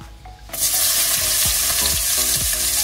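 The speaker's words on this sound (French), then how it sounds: "dans la graisse, eh bien, vous mettez les oignons" Onions frying in fat for a chicken curry hiss loudly and steadily once they hit the pan, with a few quick utensil scrapes and taps as they are stirred close by.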